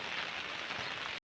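Steady rain falls over a rural village, a dense even hiss holding at one level throughout, close and fairly loud, with no voices before it cuts off abruptly.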